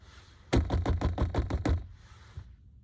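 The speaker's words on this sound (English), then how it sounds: "it was an immediate knock at the door" A quick series of about seven firm knocks on a door, evenly spaced and close, with a quiet room before and after.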